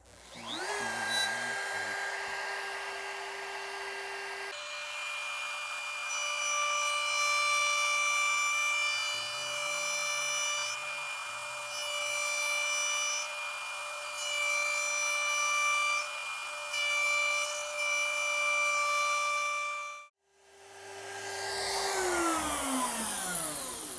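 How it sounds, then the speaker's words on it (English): Router fitted with a 3/8 inch bit cutting a neck pickup cavity in a guitar body, a loud sustained high whine that runs for most of the clip, dies briefly, then spins up again. "I'm using a 3/8 router bit for this. A 1/2 inch will not hug these corners properly."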